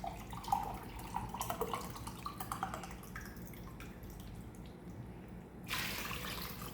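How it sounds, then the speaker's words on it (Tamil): Measured water, three cups, poured into one and a half cups of rice for tomato rice, a steady splashing trickle running close and alone before a brighter gush near the end. "தண்ணி அளந்து தான் ஊற்றுறோம்."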